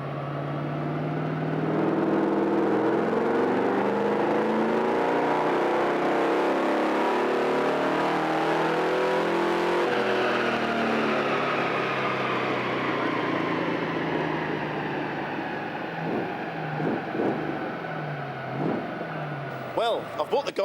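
A 1956 Chevrolet engine revs hard on a dyno inside a garage, a loud, sustained roar that climbs in pitch, shifts and keeps droning for about twenty seconds, with sharper pulsing bursts near the end and voices faintly underneath.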